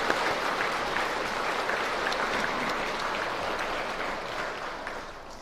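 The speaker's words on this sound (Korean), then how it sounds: "박수로 축하의 인사를 드립니다" A church congregation applauds at a baptism service, sustained and even, gradually tapering slightly toward the end, with no voices over it.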